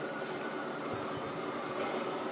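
A train in a Grand Theft Auto game, a steady close rumble and rattle of rail cars rolling past, loud and continuous with no talk.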